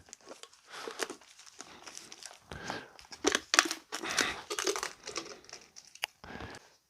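Close-up crinkling, crunching and tearing of plastic in irregular bursts as a plastic bottle is cut and pulled apart by hand.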